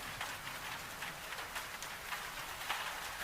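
Rain drums on a flagstone path outside a Highland farmhouse, a dense, even patter of drops with scattered brighter splashes, steady and moderately close.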